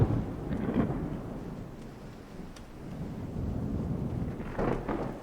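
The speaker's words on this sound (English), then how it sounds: "it's minus 40 for stormy weather" Stormy weather at sea in Ultimate Admiral Dreadnoughts, a naval battle game set in 1895: a low, steady rumble of thunder and rain with rolling swells, loud and continuous with no talking.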